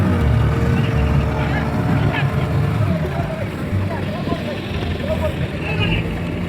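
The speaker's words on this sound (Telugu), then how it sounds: "Fishing boats, large boats." Large fishing boats and small boats at Pondicherry fishing harbour, a continuous low engine rumble with wind, faint crowd babble and people talking nearby throughout.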